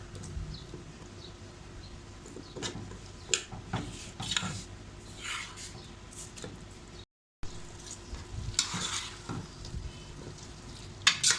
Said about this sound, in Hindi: आलूओं को मैंने अच्छी तरह भून लिया